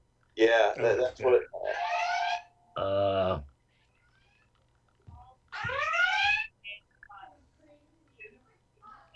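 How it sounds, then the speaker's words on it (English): A phone's emergency alert alarm sounds in rising, tonal bursts during a planning board meeting, going off several times between stretches of people talking. "that's just my phone telling me that there's an emergency at the office"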